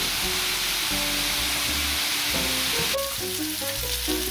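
Vegetables for a slow winter stir fry sizzle and fry steadily in an uncovered pan, a close, continuous crackling hiss with faint stirring knocks and no talk.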